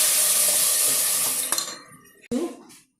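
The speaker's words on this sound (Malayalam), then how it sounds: "ഇതിലേക്ക് ഞാൻ വെള്ളം ഒഴിക്കുകയാണ്." Water poured into a pot of salted, reddish sautéed onions for biryani hisses and sizzles loudly, then cuts off, followed by a brief splash and stir near the pan.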